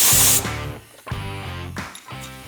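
A 1/4 inch end mill cuts a billet aluminum part clamped in a vise, opening with a loud hissing spray, then giving three close bursts of buzzing, tonal machining separated by short dips.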